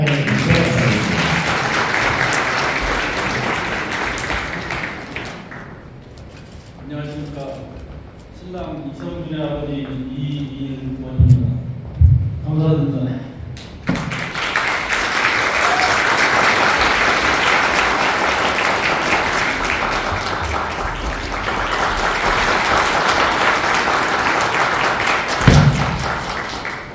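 Wedding guests at a Korean ceremony clap to welcome the groom's father, a steady broad wash of applause running through most of the clip, briefly thinning in the middle where a voice speaks over it before the clapping swells again.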